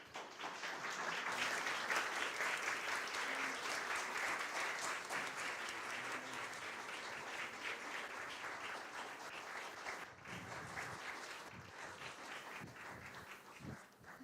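A theatre audience claps warmly after a staged performance, a full, sustained round of applause that gradually thins into scattered claps toward the end.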